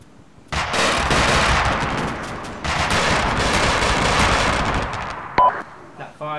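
Sustained gunfire in a military video game, with loud, dense automatic bursts and rolling volleys about 100 meters ahead, pausing briefly mid-way, ending with a sharp beep and radio-like clicks.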